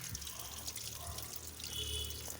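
Water pours and trickles in a short, uneven stream with light splashing, fairly quiet and close.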